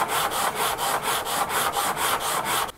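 Coarse 40-grit sandpaper rubs back and forth on a guitar fretboard in steady, even strokes. The scratchy rasping is close and loud, with no voices.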